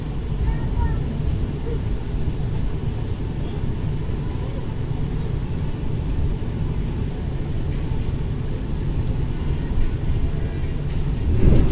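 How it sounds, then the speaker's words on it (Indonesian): Tegal Bahari passenger train running after leaving Brebes station, a steady low rumble and rolling roar heard from inside the carriage, constant and fairly loud throughout and swelling slightly toward the end. "ini kereta api Tegal Bahari sudah berangkat dari stasiun Brebes dan sebentar lagi sampai di tujuan akhirnya stasiun Tegal"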